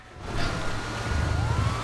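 Police car siren wailing in the video game GTA V during a prison escape, rising and steady over a low rumbling engine and road noise, close and loud for about two seconds.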